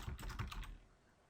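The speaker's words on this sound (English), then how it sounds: "as soon as I start typing" Brisk typing on a computer keyboard while entering data into an Excel spreadsheet, a quick cluster of close key clicks over about half a second, then quiet.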